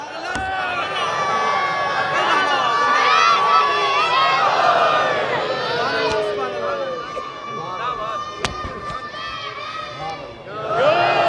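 Children in a religious majlis gathering chant slogans together, a loud crowd of young voices shouting and cheering continuously for about eleven seconds with harmonic, overlapping calls.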